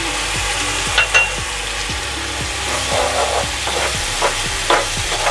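Spices with red chili powder fry for egg korma, a loud close sizzle under repeated scraping strokes of a spoon stirring through the pan in a steady rhythm, with no talk.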